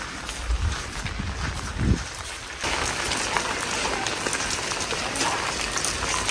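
Steady rain falls on a garden in a dense, even hiss with scattered drops, continuous throughout and fairly close, with no voices.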